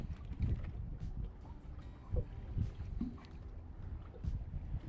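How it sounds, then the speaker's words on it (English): Outdoors on the water while trout fishing, breezy wind rumbles and buffets low and steady, with faint splashes and knocks against a boat. "It's gotten a little bit breezy as soon as that wind turned on us."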